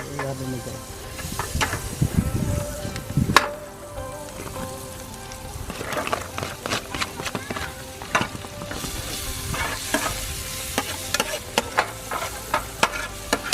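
Onion and garlic sauté in a pan at a beach outing, a loud continuous sizzle with frequent sharp scrapes and knocks of stirring, and faint voices now and then.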